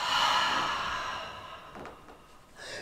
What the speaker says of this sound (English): Breathing out.